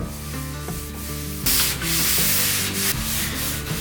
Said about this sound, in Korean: 바닥 먼지 청소할 때 쓰는 청소포인데 이걸로 먼저 좀 닦아줄게요